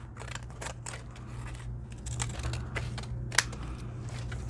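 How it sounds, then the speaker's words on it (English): Scissors cut an envelope in half with a quick series of close, crisp paper snips at an uneven pace, and no one speaks. "I'm going to take this, and I'm going to cut it in half."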